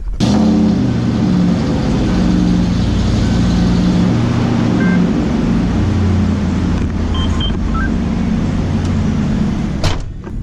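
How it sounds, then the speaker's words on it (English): Green truck engine running steadily and close, a loud continuous rumble with a faint clunk near the end as it is backed out of a garage. "Now we'll fire the green truck up and back it out of here"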